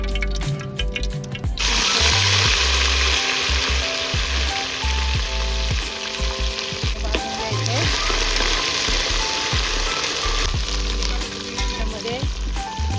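Masala frying in oil in a pan over a traditional wood-fired chulha outdoors, a loud continuous sizzle with stirring scrapes and clatter, close up, with background music tones running beneath.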